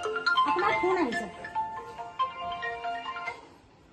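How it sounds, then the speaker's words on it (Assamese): A mobile phone ringtone plays a bright melodic tune of repeated tonal notes, loud and close, ringing for several seconds before fading, with a voice speaking over the start. "আপোনাৰ ফোন আহিছে।"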